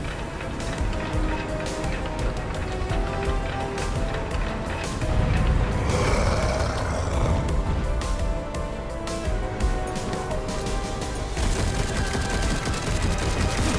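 A boss unleashes a dense, sustained barrage of bullets in the video game Darksiders Genesis, with loud rapid shots and blasts packed together over continuous game noise throughout.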